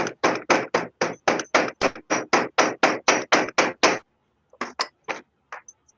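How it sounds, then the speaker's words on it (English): A hammer packing handfuls of clay tightly around an object for casting, struck in a fast, steady run of about eighteen loud, close blows, then a pause and a few scattered lighter taps. "I can just put handfuls in and hammer it"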